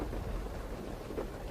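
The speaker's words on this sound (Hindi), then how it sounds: "देख कितनी तेज बारिश हो रही है।" Heavy rain pouring down in a dense, steady broadband hiss with low rumbling underneath, a loud continuous downpour with no voices.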